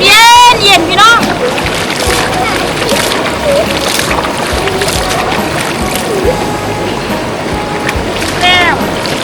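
Water splashes and pours as someone bathes outdoors on a hillside, with irregular splashing over a steady watery rush and a voice talking throughout.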